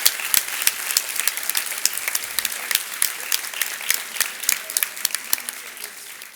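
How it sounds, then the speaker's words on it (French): Warm applause for graduates' parents at a Master's diploma ceremony, with many distinct, crisp claps ringing out in an uneven, lively patter throughout, no voices. "Je vous demande s'il vous plaît de les applaudir très chaleureusement"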